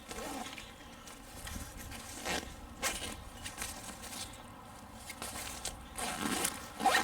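A zipper on the external pouch of a day-hike backpack is pulled in several short, rasping strokes, close by and fairly quiet, with light handling noise between them.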